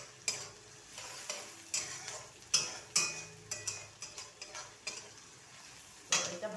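Ginger and chana dal frying in a pan for a tadka make a faint background sizzle, broken by repeated sharp clinks and scrapes of a spoon stirring against the pan, with no talk.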